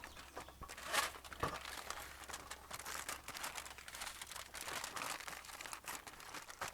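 Aluminum foil crinkles and crunches as a shrimp boil foil pack is pinched and rolled shut, a steady close run of papery crackles with sharper bursts, and no voices.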